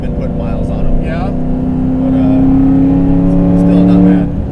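A modified 2002 Camaro SS cruising, with a steady drone of engine and tire road noise rising slightly as it picks up speed, heard from inside the car with a continuous low hum throughout.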